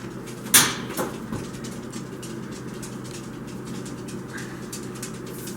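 An oven door shuts as sunflower seeds go in, one sharp clunk followed by a softer knock, then a steady low hum of the kitchen.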